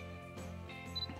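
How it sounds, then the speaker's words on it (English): An Olympus camera shutter fires to take a picture, a soft quick mechanical click heard faintly and close against a low steady background hum. "You push the shutter, takes a picture"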